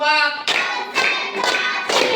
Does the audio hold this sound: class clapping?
yes